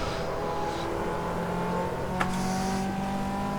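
Caterham race car engine in Assetto Corsa EVO, a steady sustained drone with a brief sharp click partway through and a slight shift in tone toward the end, no talk.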